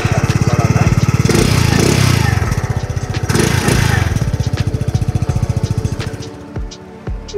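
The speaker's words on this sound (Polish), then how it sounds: "jak pięknie i radośnie pracuje ten jednocylindrowy skuterek chłodzony powietrzem" A Keeway Versilia 125 single-cylinder air-cooled scooter engine runs nearby with a fast, even putter, loud and steady before easing off near the end; a voice briefly speaks.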